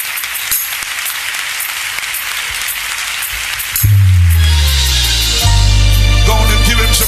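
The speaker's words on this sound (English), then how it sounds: "Clap your hands again." A church congregation applauds in a dense, steady wash of clapping that continues throughout, while a loud low organ or music swell enters partway and plays over it.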